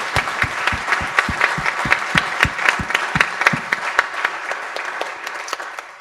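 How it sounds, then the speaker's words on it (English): Audience applause at a Salesforce Accelerate graduation event, a steady wash of many hands clapping close by with a few sharp louder claps standing out, fading slightly toward the end. "So let's have a round of applause for those guys,"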